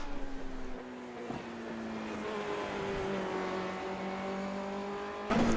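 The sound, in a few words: Formula Renault 2.0 race car engine at Suzuka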